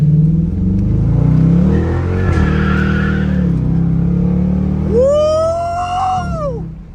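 A Dodge Demon 170 revs loudly while sliding a corner, the engine roaring and climbing in pitch as the tires squeal in a long rising-and-falling screech, very close and powerful.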